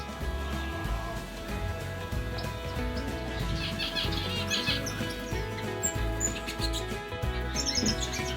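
Canaries chirp and tweet in an aviary, a steady chorus of overlapping calls with a constant low hum behind them, and occasional brief wing flutters.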